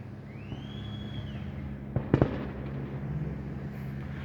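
Fourth of July fireworks: a rising whistle trails upward, then a quick cluster of sharp, loud bangs bursts close by, followed by a softer crackling rumble over a steady outdoor background.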